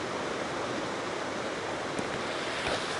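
Steady broadband rush of flowing water at South Texas Creek, a mountain stream on a Colorado trail toward Cottonwood Pass, close and continuous with no voices.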